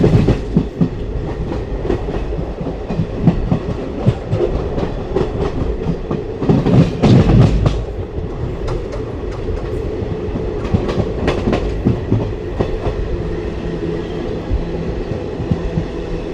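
Riding aboard a passenger train between Moga and Haridwar as it passes through Baddowal station without stopping, with a continuous loud rumble and rhythmic clickety-clack of wheels over rail joints, no talk.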